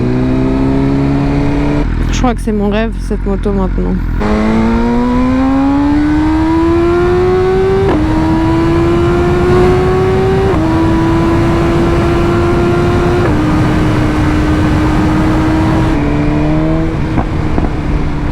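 A 2023 BMW M1000R sport motorcycle engine revs up hard, climbing in pitch through several gear changes, loud and close, with someone speaking briefly over it.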